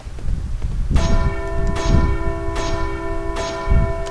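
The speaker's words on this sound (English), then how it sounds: "Ah, bells." Church-style bells ring in the video game Resident Evil 4, several clear resonant strikes about once a second with long sustained tones layered over low background rumble, loud and fairly near.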